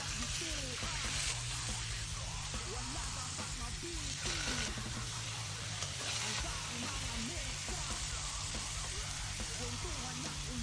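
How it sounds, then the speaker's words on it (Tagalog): Tambakol fish sizzles in an oiled stainless steel pan with a steady, close crackling hiss, and someone talks intermittently over the frying. "sabay salang na rin natin yung mga isda dyan"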